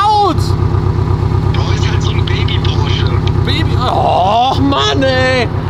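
A loud sports car engine drones with a strong, steady rumble, and its pitch sweeps upward briefly near the end as it revs. Excited voices talk over it close by.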